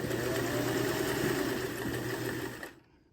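Sewing machine stitching a quarter inch seam on a sling bag, a steady fast mechanical whir running close and unbroken for nearly three seconds before stopping abruptly, with no talk.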